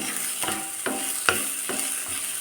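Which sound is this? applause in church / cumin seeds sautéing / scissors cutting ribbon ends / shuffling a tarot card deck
cumin seeds sautéing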